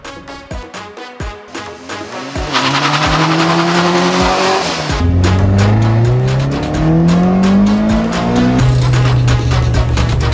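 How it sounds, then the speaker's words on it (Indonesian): Modified cars drive hard through Tehran's city streets, with loud engines revving up through the gears in rising and falling sweeps and repeated rapid exhaust pops. Tires squeal across much of the run. "Para anggota melaju di jalan ibu kota dengan mobil-mobil mereka yang telah dimodifikasi dengan warna-warna unik"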